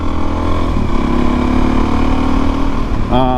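A Suzuki DRZ400S motorcycle engine runs loud and steady while riding, with a constant droning hum and a slight change in pitch near the end.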